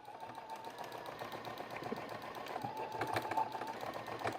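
A sewing machine hums and stitches steadily through fabric for a neck cooler, quiet and continuous, with a faint rhythmic mechanical chatter.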